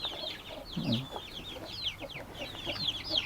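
Free-range village chickens, hens kept with a few roosters, clucking and chattering nearby with overlapping calls and soft low grunts in a busy outdoor yard.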